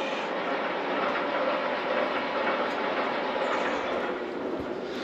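An irrigation hose reel winding a hose back in: a steady, broad mechanical rushing and rattling drone that holds constant throughout, with no speech.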